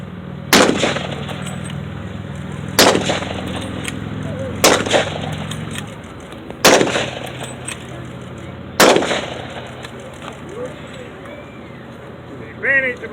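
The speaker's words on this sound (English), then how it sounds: "It's bolt action rifle, so he shoots, have to manually eject and reinsert a new round, shoot it again." Five loud, sharp reports from a MAS 36 bolt action rifle ring out outdoors at a veterans car show, spaced about two seconds apart as the bolt is worked between shots, each with a short echoing tail.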